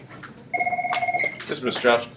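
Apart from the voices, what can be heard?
telephone ringing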